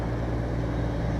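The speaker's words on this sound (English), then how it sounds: "Another fire truck coming." A fire truck rolls past during a nighttime Christmas parade of lights, its engine a steady, continuous rumble at moderate distance with no break or rise.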